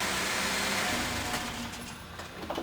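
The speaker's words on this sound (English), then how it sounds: "we're going to start the engine only when it's in that safety zone. And we're going to let it run for about 10 seconds" A car engine idles steadily for about ten seconds after start-up during a DIY oil change, a constant broadband hum with a low tonal drone, fairly close and alone, tapering slightly toward the end.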